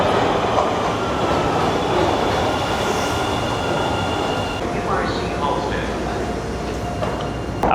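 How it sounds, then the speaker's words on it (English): Chicago Blue Line subway train riding underground, a steady loud rumble of wheels and car noise throughout with faint clacking and squeal, plus some muffled voices in the background. "we're gonna hop on a subway, and we're gonna take it about 10 minutes to our next location"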